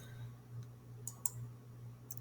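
Several sharp, quiet computer mouse clicks tick over a low steady hum, spaced irregularly across about two seconds, alone without talk.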